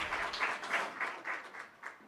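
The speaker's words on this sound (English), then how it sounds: "Can you give him a round of applause?" Audience at a business innovation conference clapping, individual claps standing out in a quick uneven rhythm, moderately loud and fading slightly toward the end.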